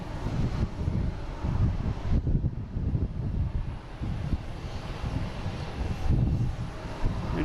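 An airliner takes off at Boston Logan International Airport, a broad, sustained jet engine roar with some wind buffeting on the microphone, loud and fluctuating throughout.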